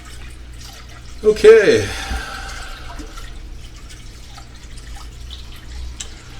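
Tap water pours into a cooking pan in a brief splashing burst over steady background hum, and a voice speaks briefly.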